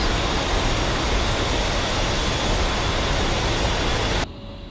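Both jet engines of an A-10C II run in a flight simulator game, giving a loud, steady broadband roar with a faint high whine that cuts off abruptly near the end.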